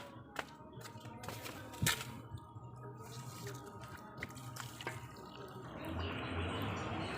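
Water runs and drips while finely crushed aerator stone, ground almost to sand, is rinsed in a container; steady splashing and trickling with a few sharp knocks, growing fuller toward the end, no talking.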